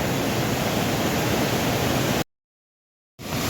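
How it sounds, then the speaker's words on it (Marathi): A waterfall with a strong flow gives off a dense, even roar of rushing water. The roar cuts out completely for about a second, then returns just as loud. "पाण्याचा प्रवाह खूप मोठा आहे"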